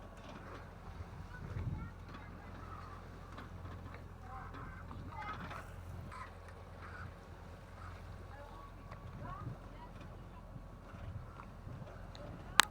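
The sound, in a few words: sailboat motor running at sea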